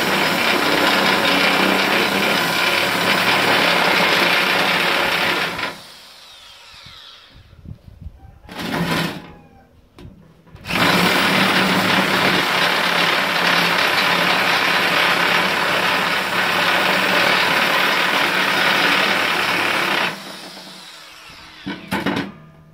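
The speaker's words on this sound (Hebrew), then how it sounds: "קידוח עם המקדח בהתחלה" A power drill bores into wood in long, loud, steady runs while a recess is carved, broken by a few short pauses and restarts.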